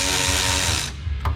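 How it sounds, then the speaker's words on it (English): Bolts being run back into a Rush SR one-wheel board during an alignment, heard as a close, busy ratcheting and clicking of a hand tool that stops abruptly near the end, with one short click after. "And so now I'm going to run these bolts back in again,"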